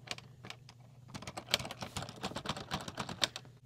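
Someone types on a LEGO typewriter, producing quick, irregular plastic key clacks that build into a dense run of taps, fairly quiet and close, with no talking.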